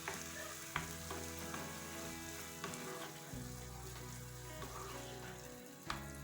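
Beef mince with chopped peeled tomatoes fries in a single pan for pasta, a faint continuous sizzle broken by occasional clinks and scrapes of stirring.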